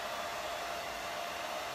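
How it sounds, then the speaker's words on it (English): A blow dryer runs steadily at moderate heat, held back from a tabletop to dry gold leaf adhesive before the leafing goes on, giving a continuous loud, even airy roar with no pauses. "So I'm just gonna hit this with a blow dryer"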